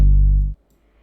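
Deep synth bass built in Serum with drive, resonance, distortion and soft clipping, a loud buzzing low note that holds for about half a second and then cuts off abruptly into near silence.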